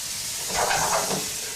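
Water hits a hot pan of green beans being cooked for a Thai pad prik king dish, giving a continuous loud hiss and sizzle of rising steam.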